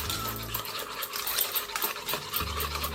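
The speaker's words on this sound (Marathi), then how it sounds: "त्याच्यातच आता ही साखर आहे ना, ती घालून घेऊया आणि छान असं फेटून घ्यायचं आहे आपल्याला." Yogurt with sugar being whisked in a bowl, a continuous close scraping and swishing that stays steady for a few seconds with no talk.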